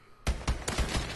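Rapid bursts of gunfire in Call of Duty: Advanced Warfare multiplayer, four or five loud, punchy shots spaced a fraction of a second apart after a brief quiet start, with no talking.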